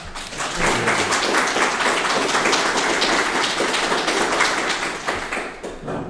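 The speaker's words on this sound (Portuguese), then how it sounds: "Uma salva de palmas para o PH." An audience at a talk in a community hall breaks into sustained clapping that holds steady for several seconds and then tapers off near the end, with no talk over it.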